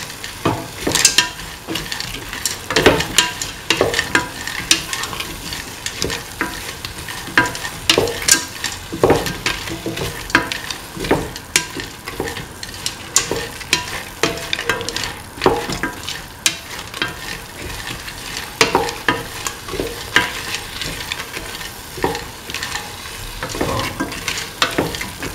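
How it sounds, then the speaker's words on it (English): Vegetables for coconut milk rice are stirred in a sizzling pan, with a steady frying hiss under repeated scraping strokes of a spoon against the pan, close and continuous, with no talk. "Keep on mixing."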